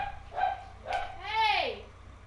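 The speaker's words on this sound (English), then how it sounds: "Any little noise and they're barking" Small dogs bark and whimper in a short burst: a few yips followed by a rising, drawn-out whine, fairly close, with a faint steady hum underneath.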